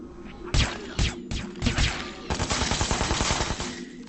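Gunshots crack in Hitman: Absolution, a few separate loud shots followed by a rapid burst of fire, close and sharp with no talking.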